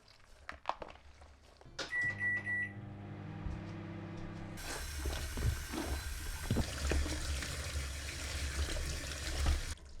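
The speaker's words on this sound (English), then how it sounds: "And then a lot of water. And squeeze them." Makeup sponges squeezed by hand in a bowl of soapy water made with dishwashing liquid, giving steady sloshing and squelching that runs close and fairly loud for several seconds.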